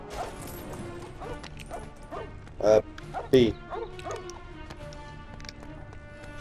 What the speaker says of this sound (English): Yeah, I unlocked the dog!